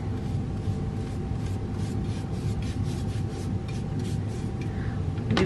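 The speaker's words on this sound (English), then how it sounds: "You could also take a towel and just gently rub it on." A towel gently rubs a finish onto a pottery vase in a steady, soft, continuous scrubbing rasp, close and even in loudness throughout.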